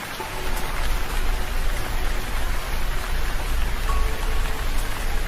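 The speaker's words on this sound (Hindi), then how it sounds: "कल भी कितनी बारिश हुई, आज भी हो रही है" Steady rain falling, a continuous dense hiss of drops on a surface with no pauses, fairly loud and close.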